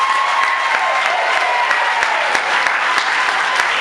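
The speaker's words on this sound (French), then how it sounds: "Applaudissez s'il vous plaît." A crowd claps steadily throughout at a civil wedding ceremony, dense and sustained applause with scattered sharper claps standing out, fairly loud and close.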